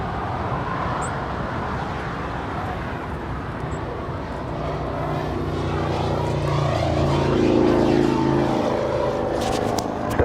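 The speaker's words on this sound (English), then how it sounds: "LATAM Airlines 787-8 Dreamliner heading to Santiago." A LATAM Airlines Boeing 787-8 Dreamliner departing for Santiago at night from LAX, its jet roar heard from a distance as a steady broadband rumble that slowly swells and holds.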